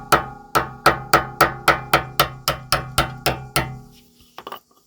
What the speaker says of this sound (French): Et vous tapez avec le marteau comme ça.